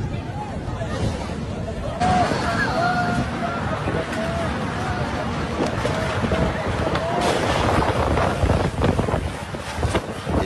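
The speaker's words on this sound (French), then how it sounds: "Regardez le vent qui chasse tout le monde." Strong wind roars over a crowd during a storm at Mecca, a steady buffeting rush with gusts and microphone wind noise, while people's voices sound faintly underneath.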